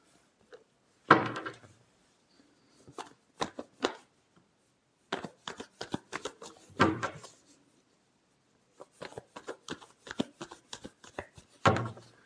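Tarot cards are shuffled by hand in several short bursts of rapid riffling and slapping, close up, with quiet gaps between the rounds.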